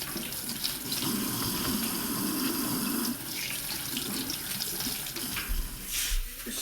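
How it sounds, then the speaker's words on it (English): Tap water runs steadily as freshly laid, dirty eggs are rinsed under it, a continuous close splashing stream over a sink, with no talk. "So you just want to rinse off the little ones that are all dirty."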